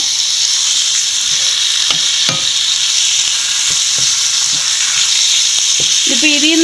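Chicken curry is stirred and fried in a pan, a loud continuous sizzle with scattered spoon scrapes and knocks against the pan, ending in a brief squeak near the close; no one speaks.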